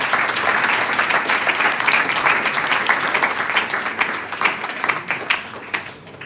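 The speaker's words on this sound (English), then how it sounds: "Give a big round of applause." An audience at a Guru Poornima celebration applauds children's singing with loud, dense, steady clapping from many hands, tapering slightly at the end.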